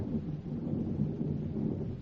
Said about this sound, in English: How can you go out like this? The storm, the rain.